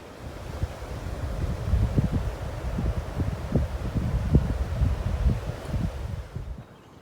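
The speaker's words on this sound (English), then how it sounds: "It's really windy down here" Strong wind buffets the microphone beside the Shenandoah River at a waterfront campsite, rumbling in low gusts that swell and ease over several seconds before dropping away.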